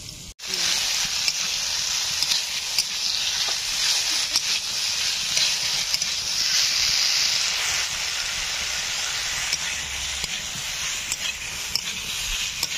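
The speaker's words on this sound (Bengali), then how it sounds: "তো পেঁয়াজটা ভেজে আলুটা দিয়ে দিলাম।" Onion and potato fry in a pan with a loud, continuous sizzle and hiss, occasionally broken by faint stirring clicks, close up and steady throughout.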